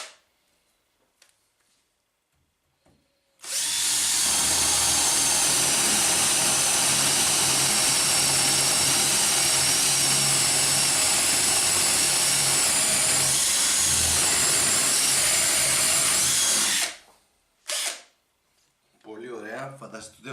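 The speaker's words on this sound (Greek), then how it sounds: "Ένα τρυπάνι φτερού" A Parkside PABS 20-Li D4 cordless drill fitted with a spade bit bores into thick wood, a loud steady whine with grinding texture lasting about thirteen seconds, then cutting off, followed by brief clicks and handling noise.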